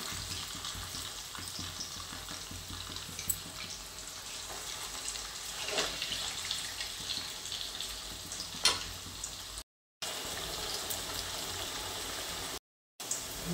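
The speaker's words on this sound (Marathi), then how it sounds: "आता एक साईडने तळून झाले तर आपण हे पलटी करून घेऊ आणि दुसऱ्या साईडने छान असे तळून घ्यायचे आपल्याला।" Potato and onion cutlets sizzle steadily in hot oil in a home kitchen, a continuous close frying hiss with faint crackles and two brief gaps of silence near the end.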